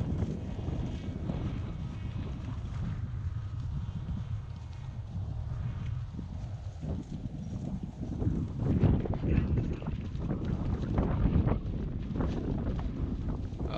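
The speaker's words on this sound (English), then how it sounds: "This wind is kicking." Strong gusty wind buffets the microphone at a model plane flying field, a steady low roar that swells louder in the second half, with no talk.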